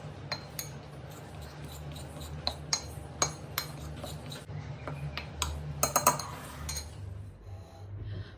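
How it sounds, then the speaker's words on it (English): A tablespoon scraping and clinking against a bowl while mixing dry chocolate cupcake ingredients, with repeated quick taps and rubs that grow busier toward the end, close and fairly quiet. "I'm literally just using like the tablespoon spoon to mix it all up."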